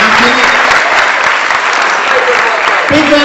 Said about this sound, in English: So a massive round of applause for the people who make it happen.